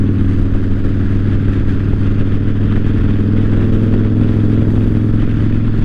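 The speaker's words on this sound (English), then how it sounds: "I want you to hear how the exhaust sounds." A Yamaha Raider motorcycle's exhaust rumbles close and loud at a steady, deep throb, holding an even idle-like tone throughout without speech.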